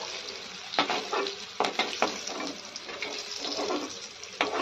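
Vegetables frying in oil in a pan: a constant loud sizzle is broken by several sharp scrapes and clatters as the pieces are stirred, with no voice over it.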